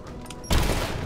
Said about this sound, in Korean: 폭발 화살